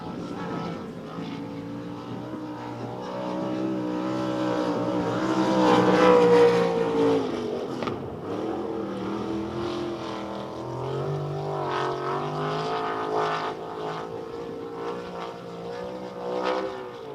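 Race car engine on a dirt speedway track, a sustained roaring drone that swells to a peak and fades, with shifting pitch as the car passes at a distance.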